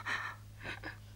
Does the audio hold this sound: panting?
yes